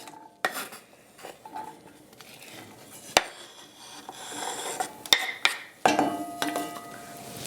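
Chopped onion, celery and carrots tipped into a pot to sauté for a one-pot quinoa and creamed beef meal, with scattered clinks, scrapes and stirring of a utensil against the pot.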